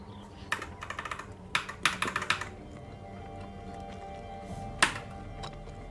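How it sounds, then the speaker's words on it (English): Keys on a computer keyboard, escape and enter among them, click in quick bursts of sharp taps, clustered in the first half with one lone click later, close to the mic over a low background hum. "Escape and enter do not work. That's what... That's the clicking you're hearing on my mic."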